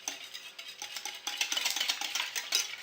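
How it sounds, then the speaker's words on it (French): Whisk or spoon stirring eggs and milk together in a bowl for crêpe batter, a steady scraping, clinking rhythm up close with no voices. "Là, on mélange bien les œufs avec le lait."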